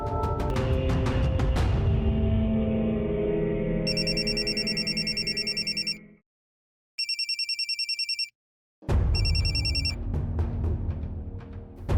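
In a Hindi TV serial drama, a telephone bell rings in repeated bursts over loud background music, which drops out briefly between the rings.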